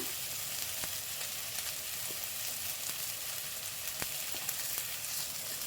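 Turmeric and red chilli powder frying in oil over a low flame for an egg gravy, a faint, even sizzling hiss throughout with a few small ticks and pops.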